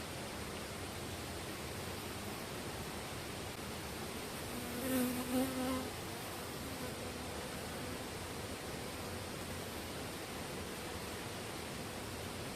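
Honey bees buzz at hives at about 1400 m altitude, a dense, even drone that fills the air throughout, with one brief closer buzz swelling up near the middle.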